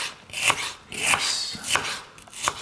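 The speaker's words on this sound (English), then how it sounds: "now cut the onion" Knife chopping an onion on a cutting board, four evenly spaced crisp cuts, close and clear with quiet pauses between.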